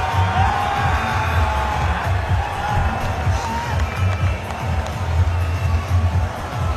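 A large cricket crowd at an India versus South Africa one-day international in 2013 cheers and whoops continuously, a dense roar of voices with bursts of shouting and some clapping throughout.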